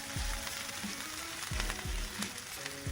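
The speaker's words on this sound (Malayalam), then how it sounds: "ഇഞ്ചിയും വെളുത്തുള്ളിയും അരിഞ്ഞ് വെച്ചേക്കുന്ന ആദ്യം ഇടാം" Chopped ginger and garlic fry in a pan with a steady, fairly close sizzle, punctuated by several low knocks as a utensil strikes the pan.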